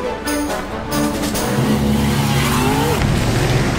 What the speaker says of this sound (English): And there's a car coming.